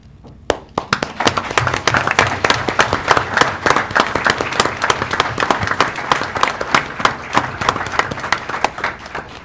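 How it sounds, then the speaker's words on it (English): A room at a school board meeting applauds veterans with dense, sustained clapping that starts abruptly and holds steady throughout, fairly close and loud. "we would like to have you stand so we can give you a round of applause"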